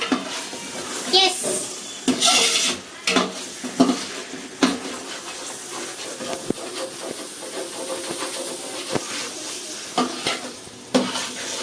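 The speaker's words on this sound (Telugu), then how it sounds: "ఇవన్నీ వేసిన తర్వాత ఒకసారి బాగా కలిపేసి మసాలాలన్నీ తీసారు కదా" A spoon stirs a large pot of pulao with masala, scraping and clinking in irregular strokes over a soft hiss of steam and sizzling, while a person talks and a voice is heard.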